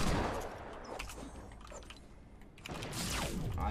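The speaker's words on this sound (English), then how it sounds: "I just got sniped" A sniper rifle shot rings out in Fortnite amid dense, noisy gunfire, loud and close, with sharp bursts near the start and again toward the end.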